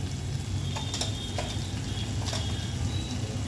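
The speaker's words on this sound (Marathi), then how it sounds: "आता असे तेलामध्ये परतून घ्यायचे" Masala with red chili powder, turmeric and coriander powder sizzles in hot oil while being sautéed for a prawn curry, with a steady quiet frying hiss and occasional scraping of a spoon against the pan.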